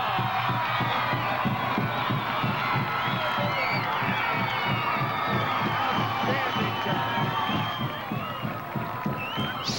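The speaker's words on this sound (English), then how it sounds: "The crowd just blew us completely off the airs for a moment." A high school football crowd roars after a long breakaway touchdown run, a loud sustained cheer with whoops and rhythmic stomping or chanting beneath it, continuous throughout.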